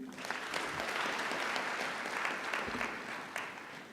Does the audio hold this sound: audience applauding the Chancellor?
yes